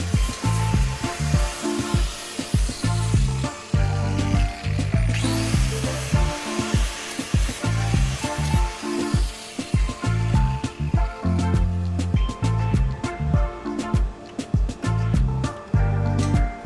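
Power tool grinding away excess weld metal on an Alfa Romeo 145 Cloverleaf body panel, a loud, close, continuous harsh whir with rapid pulsing bursts as the tool bites and lifts over about sixteen seconds.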